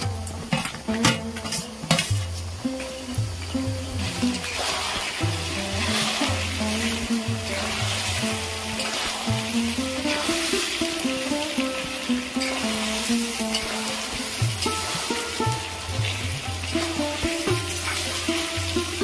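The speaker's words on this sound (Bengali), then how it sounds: "এবার আমি ইলিশ মাছের এই তেল ফোঁটাগুলো দিয়ে দেবো। মাছের মাথাগুলো দিয়ে দেবো।" Hilsa fish heads and drops of hilsa fat fry in mustard oil with a steady sizzle, joined by stirring, clinking utensils and pan scrapes, while a tonal hum or music runs underneath.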